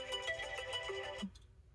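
A phone ringtone plays a melodic electronic tune up close, then cuts off abruptly partway through.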